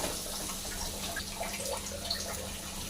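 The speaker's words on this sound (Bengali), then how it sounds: "এবার ডালটা যে ভেজে রেখেছিলাম ওটা ধুয়ে দেব।" Water runs steadily from a tap while fried lentils are rinsed, a continuous close hiss with small splashing drips on top.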